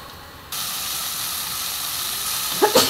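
Spices tempered in hot oil for a taro-leaf dish sizzle steadily and loudly close by, with the hiss jumping in after a brief quiet start and two sharp spattering bursts near the end.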